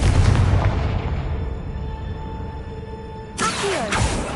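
A Confringo fire spell explodes in Hogwarts Legacy: a loud booming blast that rolls off into a ringing tonal tail, followed by a second sharp burst of noisy impact near the end.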